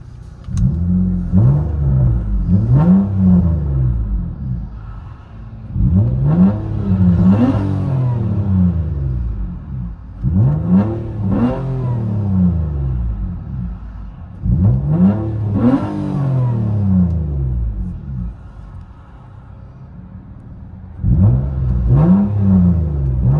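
A 2015 Nissan Maxima with a 3.5L V6 and straight-pipe exhaust revs repeatedly, each throttle blip climbing loudly and falling back to a deep idle, heard up close in about five rhythmic cycles.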